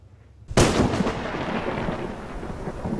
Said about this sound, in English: Back at home, Alvin and his daughter enjoy a nice thunderstorm